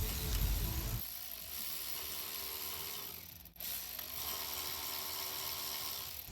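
A ratchet cinching up the four control arm bolts, with a backup wrench, during a Wilwood big brake kit install on a 1966 Chevrolet C10; a steady close mechanical clicking runs throughout, with a brief pause partway through.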